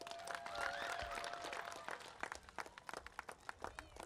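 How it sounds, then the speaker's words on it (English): A crowd applauds at an earthquake drill, with dense, crackling clapping that carries on steadily for several seconds, fairly distant and soft. "Give yourselves a big round of applause."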